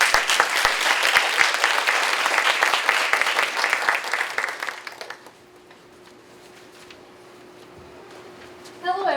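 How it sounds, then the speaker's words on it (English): An audience at a university three-minute research competition claps for a student presenter, a loud burst of dense applause that dies away after about five seconds into a quiet room, with a brief voice and shuffle at the end. "Let's give her a round of applause"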